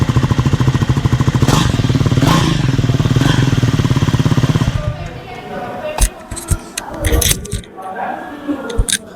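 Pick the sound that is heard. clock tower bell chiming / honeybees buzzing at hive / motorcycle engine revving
motorcycle engine revving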